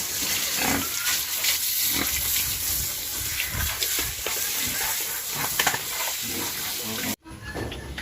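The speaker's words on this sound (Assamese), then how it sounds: "এজনী গাহৰি" Farm pigs grunt and shuffle in a pen during a morning wash, with rough continuous snorting and splashing noise throughout, then a sudden brief cut near the end.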